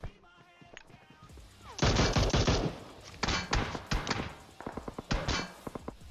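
Rapid gunfire from the mobile battle royale game PUBG Mobile, with dense bursts of automatic shots and scattered single reports, loud and close, running almost continuously across the clip.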